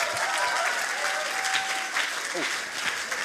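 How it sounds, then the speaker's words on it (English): An audience at an evening science slam gives a big round of applause: dense, steady clapping fills the hall for the whole stretch, with a few faint whistle-like tones and murmurs riding on top. "Big applause."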